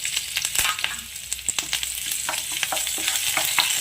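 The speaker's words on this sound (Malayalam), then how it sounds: "ഇനി ഓയിലിലേക്ക് ഒരു രണ്ട് മൂന്ന് അല്ലി വെളുത്തുള്ളി ചെറുതായിട്ട് അരിഞ്ഞത് ഒന്നിട്ട് കൊടുക്കാം" Chopped garlic and curry leaves fry in hot oil in a pan, a close, loud steady sizzle studded with sharp crackles and pops throughout, with no talking.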